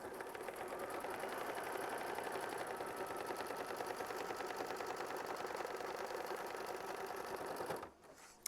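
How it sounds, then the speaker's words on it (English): An embroidery sewing machine stitches a machine-stitch step on a quilt block, a loud, rapid, steady mechanical rattle running continuously and close, then stopping abruptly near the end. "We're going to go ahead and hit start, and we're going to sew down machine stitch step 14."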